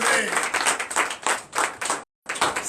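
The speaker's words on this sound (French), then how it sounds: "Donnez encore l'acclamation à Jésus" A church congregation claps during a Sunday worship service, with bursts of hand claps swelling and fading under a few voices, briefly cutting out before resuming.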